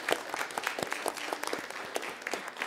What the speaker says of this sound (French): vous méritez une belle main d'applaudissement